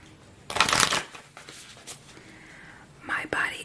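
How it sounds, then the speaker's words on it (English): Tarot cards are shuffled close up in two crisp riffling bursts, with a soft whispering voice in between in a quiet room. "One more shuffle."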